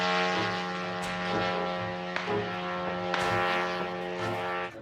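A Shahed drone engine drones steadily like a moped, with many harmonic tones, continuous and fairly loud, with a few faint clicks and bumps over the whirring hum.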